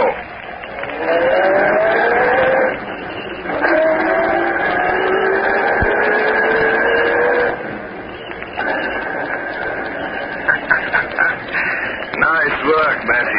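A car starting and driving away as an old-time radio drama sound effect: a loud, steady engine drone whose whine climbs through gear changes as it accelerates off.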